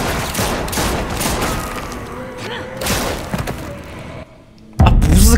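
Gunfire and heavy thuds in The Walking Dead video game, a dense string of shots and impacts over game ambience, a brief quiet gap, then a loud burst at the end; a voice is faintly present.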